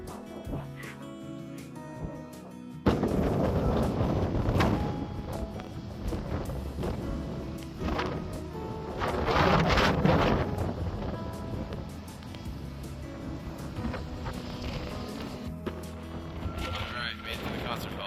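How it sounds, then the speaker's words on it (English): Strong wind blows outdoors in Iceland, roaring and buffeting against the microphone in loud, uneven gusts with rainy street noise beneath, the blasts strongest midway through. "current conditions, still very windy."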